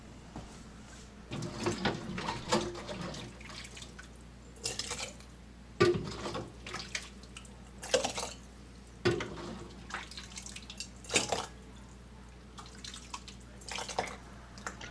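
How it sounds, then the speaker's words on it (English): Mexican turkey soup is ladled into glass canning jars with quiet intermittent splashes, drips and clinks of the ladle against glass, spaced every second or two. "we're going to start ladling this into jars"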